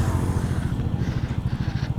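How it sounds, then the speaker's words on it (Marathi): Motorcycles on a foggy Tamhini Ghat group ride idle close by with a low, throbbing engine pulse and a slight lift in revs near the end, loud and without talk. "या सर्व बाईक लागल्यात."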